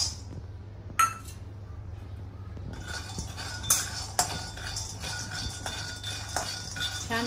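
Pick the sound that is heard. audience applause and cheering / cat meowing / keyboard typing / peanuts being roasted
peanuts being roasted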